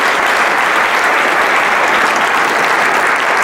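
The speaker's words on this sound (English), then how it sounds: "I want to ask everybody to just join in a round of applause for them" An audience gives a sustained round of applause for the speakers at a talk, a dense, steady wash of clapping from many hands that holds at full strength throughout without voices.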